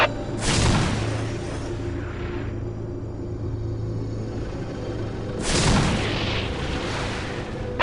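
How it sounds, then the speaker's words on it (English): A Whirlwind missile battery firing in the Warhammer 40K game Dawn of War, two loud booming launches several seconds apart, each followed by a deep rumbling roar over a steady low drone. "Preparing Whirlwind missile battery to fire."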